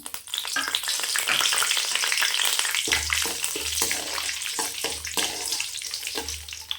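Cashews frying in oil in a pan while making pepper garlic rice, a steady loud sizzle with bursts of crackle and stirring throughout, no talking.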